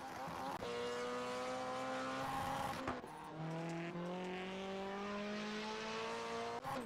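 A Class C rallycross car in iRacing races the Sonoma dirt road course. The engine howls steadily and climbs through gears, with sharp shift breaks and pitch swoops, close and loud with no talk.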